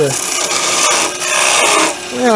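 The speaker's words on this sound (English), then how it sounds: "I come in and I cut a little bit of a hollow there" A wood lathe turning a Christmas tree ornament while a tool cuts a small hollow in it, a loud, continuous scraping rasp that dips briefly a couple of times, close up with no talking.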